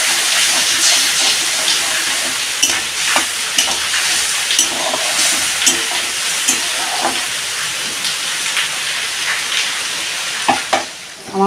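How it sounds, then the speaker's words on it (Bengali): Spice paste with cumin and coriander powder and a splash of water frying in a pan, giving a loud, steady sizzle and bubbling with repeated soft stirring taps and clinks. "কিছুটা জল দিয়ে দেবো, দিয়ে আমি মশলাটা কষিয়ে নেব।"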